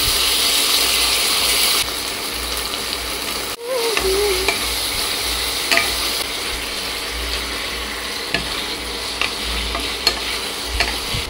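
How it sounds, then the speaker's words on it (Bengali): Onion frying in a pan with tomato ketchup, soy sauce and vinegar, giving a loud, continuous close sizzle punctuated by repeated scraping and clicking stirs. "পেঁয়াজটা হালকা করে ভেজে নিচ্ছি"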